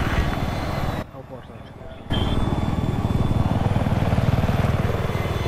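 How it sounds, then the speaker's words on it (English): Helicopter in the video game Battlefield on the Caspian Border map: a loud, steady rotor and engine drone that drops to a thinner hum for about a second before returning at full strength. "Enemy helicopter."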